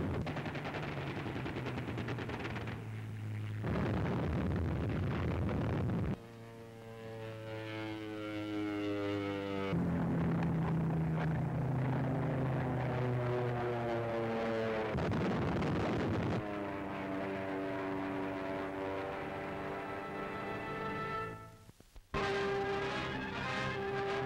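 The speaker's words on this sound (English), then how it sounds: "Hurricane fighter bombers sweep in to attack a jungle village" Hurricane fighter-bombers sweep in to attack a jungle village: droning aircraft engines swell, and their pitch falls as they pass overhead, broken by harsh bursts that sound like gunfire or explosions, all on a dated, hissy recording.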